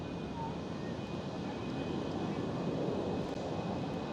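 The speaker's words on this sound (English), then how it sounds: "There goes the A320 CEO of EasyJet." An EasyJet Airbus A320ceo passing at Amsterdam Schiphol produces a steady, moderate jet rumble with a faint high whine, holding evenly throughout.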